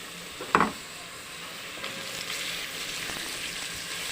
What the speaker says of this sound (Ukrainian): Зажариваем с морквой.